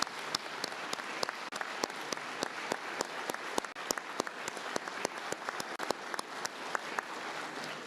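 Sustained applause from an audience at a Safe Alabama event, honoring police officers who stand; dense steady clapping fills the room with a few sharper individual claps standing out, continuous and fairly loud throughout.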